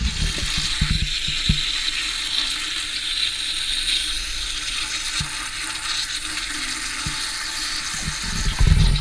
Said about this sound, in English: so now we see where the leak is coming from, or where the water noise is coming from